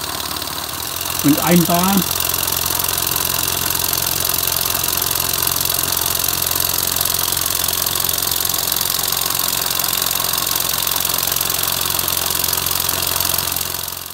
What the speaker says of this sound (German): höher wollte ich den Motor jetzt nicht drehen lassen, bevor er eingelaufen ist